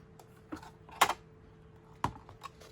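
Sharp cuts through 12-inch craft paper with a trimmer blade: a few distinct slicing snaps about a second apart, close and fairly quiet, with light handling rustle between them.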